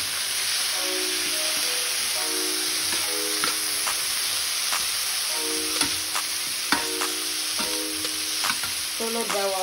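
Beef and vegetable stir fry sizzles steadily in a pan as bell peppers go in, a bright hiss broken by scraping stir strokes and the clink of a utensil throughout, with no talking.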